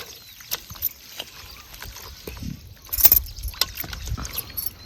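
Water sloshes and splashes in irregular bursts as goat tripe is rinsed in hot water and rubbed by hand, close by, with no talking.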